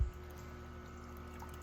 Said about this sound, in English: we have our little waterfall going